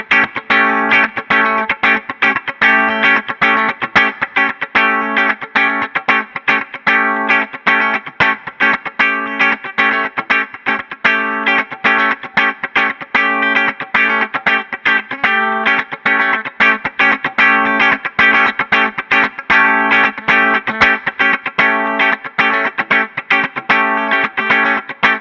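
An electric guitar runs through Line 6 Helix compressor models, a steady stream of rapid, evenly picked notes with a bright, compressed, effected tone that carries on unbroken throughout, with nobody speaking.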